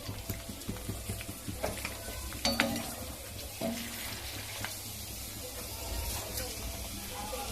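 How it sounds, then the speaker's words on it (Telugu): Ready-made pani puri shells fry in very hot oil in a home kitchen, giving a steady, close sizzle with light bubbling and a few sharper crackles and stirring clinks, and faint voices sit low underneath. "ఇప్పుడు పానీపూరి వేయించుకుందాము."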